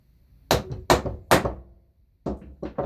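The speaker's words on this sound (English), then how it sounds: "we can whack it with a hammer." A hammer strikes an impact driver bit seated in a stripped screw on a bike, three sharp evenly spaced metallic whacks followed after a pause by three lighter quicker taps, close and clear.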